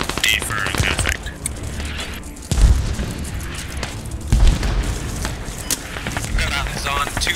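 Artillery strike explosions in a Battlefield-style shooter: two heavy booms land a couple of seconds apart amid a dense, noisy battle din of clatter and mechanical rattling, under steady radio-style voices.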